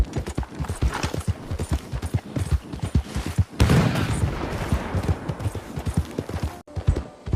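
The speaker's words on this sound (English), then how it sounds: "I heard a loud explosion." A huge explosion in the Red Dead Redemption Western video game bursts out suddenly midway and leaves a broad rumbling wash, following steady clip-clop of horse hooves and scattered gunfire-like cracks.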